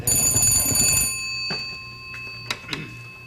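A telephone bell rings loudly and shrilly for about a second, then cuts off, leaving a quiet room with a few faint clicks and knocks.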